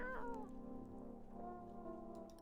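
A cat in the video game No, I'm Not A Human gives a faint, drawn-out meow over low background game music.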